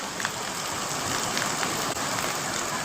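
Heavy monsoon downpour over Banaskantha district in north Gujarat, a dense, steady hiss of rain with faint scattered drops, constant and fairly loud throughout with no voices.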